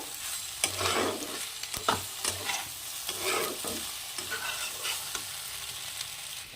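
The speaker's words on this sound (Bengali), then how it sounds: "তো মশলাটা দিয়ে ভালো করে নেড়ে চেড়ে নেব" Spices are stirred into vegetarian cheese pasta in a hot pan, giving a close, steady sizzle broken by scraping, shuffling strokes of the spoon, with no talking.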